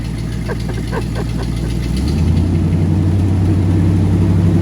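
An old truck engine, left sitting for 30 years, idles steadily with a low rumbling drone and a rhythmic knocking, growing slightly louder and rougher partway through; the muffler hangs loose.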